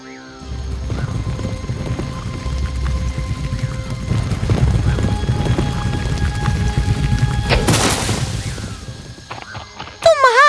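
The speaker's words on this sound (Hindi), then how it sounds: "वो अपने घोड़े पर सवार हुई और माइल्स क्रॉस तक तेजी से गई।" A horse gallops with steady, rapid hoofbeats that build over about ten seconds, set against a layer of background music, with a sharp whinny-like burst near the end and no voices.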